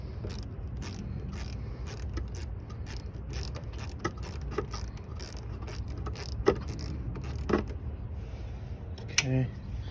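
Quick ratcheting clicks as a hand ratchet loosens an 8mm bolt on a 2000–2006 Ford Ranger during a radiator replacement, a steady run of close mechanical clicks with a few sharper knocks.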